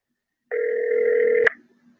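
A telephone ring tone plays over a cell phone's speaker, one steady electronic tone lasting about a second that ends in a click with a short fade after it.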